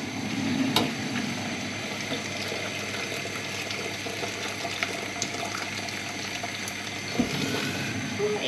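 Boiling water from a kettle is poured into a pan for pasta, giving a steady splashing, bubbling pour at close range with a few clinks, and a voice briefly speaks over it.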